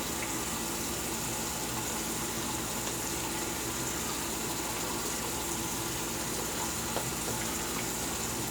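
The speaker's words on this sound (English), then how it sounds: "Let the water run." A bathroom tap runs in a steady, unbroken hiss of flowing water during wet shaving, constant in loudness throughout.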